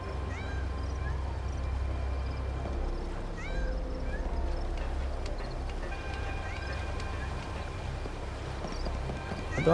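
A cat meows a few times in Lightning Returns: Final Fantasy XIII, set against steady game music and ambient background sound.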